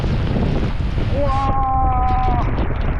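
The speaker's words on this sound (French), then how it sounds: "le vent est fort" Strong typhoon wind roars in rural Yamato, Japan, as a loud, continuous rumble buffets the microphone, joined midway by a brief tonal whistle or voice.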